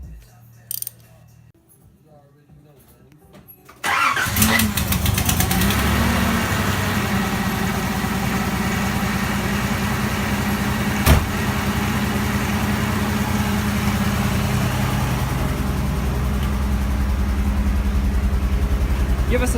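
A Nissan 300ZX Z31 engine, running on five cylinders after intake manifold work, idles with a steady rough drone and mechanical clatter for about fifteen seconds after a quieter start, with voices talking over it.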